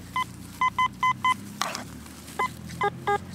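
A metal detector's target signal: short electronic beeps sound in quick bursts, with a brief noisy scrape in the middle, then a few more beeps at varying pitches.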